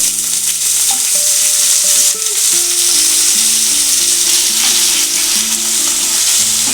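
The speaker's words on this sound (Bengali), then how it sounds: "এবার আমি দেব এই ছোট ছোট করে কেটে রাখা আলুগুলো এর সাথে একটু হালকা করে ভেজে নেব" Small diced potatoes frying in a pan for a Janmashtami dish, a loud, dense, continuous sizzle with faint tonal notes in the background.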